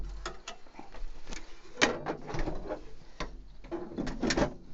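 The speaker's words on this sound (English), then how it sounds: "So putting the drawers back in again, it's just reverse of what you've done to get them out." Caravan drawers slide out and back into their runners, giving a run of soft clunks, knocks and scraping rattles up close, with a sharper knock partway through.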